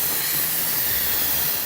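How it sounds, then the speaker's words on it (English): A steady, loud hiss of steam rushes out of an Instant Pot pressure cooker vent during a quick pressure release, continuous and close with no pauses or talking. "because it's done, we're gonna turn it over to a quick release."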